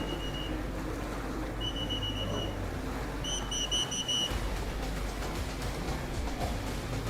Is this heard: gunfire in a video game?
no